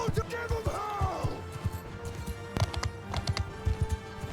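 Rhythmic horse hooves clip-clopping at a steady trot in the game Mount & Blade II: Bannerlord, loud and close amid battle noise, with voices talking over them.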